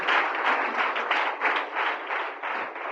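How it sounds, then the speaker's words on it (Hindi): Congregation at a church service clapping their hands together, a dense, steady patter of many hands with a faint pulsing rhythm, filling the room continuously and alone without talk. "Clap your hands and give God the glory."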